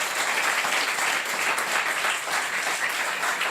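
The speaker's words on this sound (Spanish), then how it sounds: "¿Por qué no le da un aplauso al Señor por eso?" A church congregation breaks into sustained applause during a Sunday sermon, a dense, steady wash of many hands clapping together at full volume with no voices standing out.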